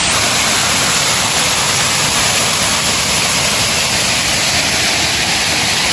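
Water pours down Garadi Ella waterfall near Kalugala, Sri Lanka, a loud, steady, broadband rush heard close up and unbroken throughout.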